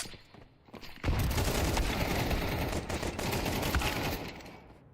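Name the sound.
AK rifle gunfire in the video game Counter-Strike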